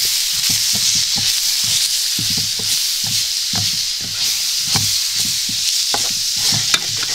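Mushrooms and buckwheat sizzle steadily in a pan with a bright hiss, punctuated by repeated scraping and stirring clicks of a spoon.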